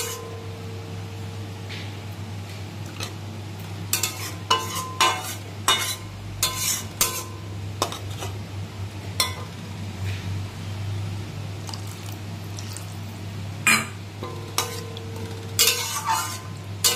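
Pabda fish curry cooking in a pan with a low bubbling sizzle, broken by bursts of close stirring and scraping, with several clustered clatters partway through and again near the end.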